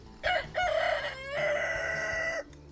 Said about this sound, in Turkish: Horozu dürttüler galiba.